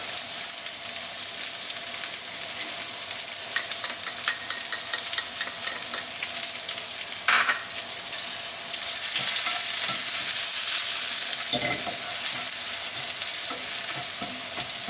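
Chopped garlic and chili fry in a pan for kale stir-fry with crispy pork, crackling and spattering steadily with occasional stirring scrapes and louder bursts, fairly close and without speech.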